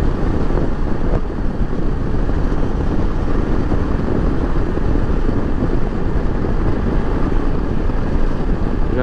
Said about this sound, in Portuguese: Venha me acompanhar nesse passeio de moto,